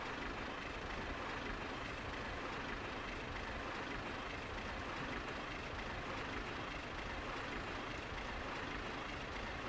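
A PRR T1 steam locomotive in Trainz Simulator 3 accelerates with a continuous, loud, broadband chuffing roar that holds steady throughout with no clear breaks.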